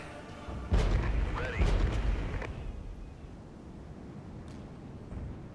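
Mortar fire booming in the war game Regiments, two heavy thuds close together near the start with a faint distant crump later, over low battlefield rumble.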